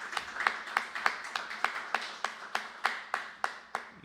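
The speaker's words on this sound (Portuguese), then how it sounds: "Uma salva de palmas ao nosso Senhor Jesus Cristo." A church congregation claps in a slow, steady unison beat, about a dozen sharp, evenly spaced claps ringing in a reverberant hall, with no voices over them.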